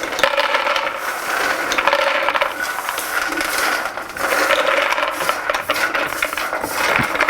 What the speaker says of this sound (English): So let's put these into a food processor.